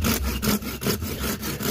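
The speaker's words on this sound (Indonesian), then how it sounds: "untuk yang agak besar kita pakai gergaji ya" A hand saw cuts through a bonsai branch of the saeng simbur mame variety, making quick, steady back-and-forth strokes about five per second, close and loud.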